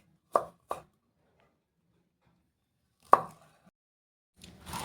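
A knife chops broccoli into small pieces on a board, giving three sharp, isolated knocks close by with near silence between them, then a soft rustle at the end.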